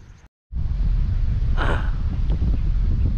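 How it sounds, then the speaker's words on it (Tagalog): Wind gusts across a seashore during shore-casting fishing, a brief dropout, then a loud, steady low roar buffeting the microphone, with a short airy whoosh partway through. "Medyo mahangin mga idol."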